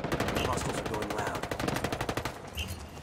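Rapid bursts of gunfire in Ghost Recon Wildlands 4v4 PvP, a dense string of loud cracks over about three seconds, close and harsh, with a faint voice briefly underneath.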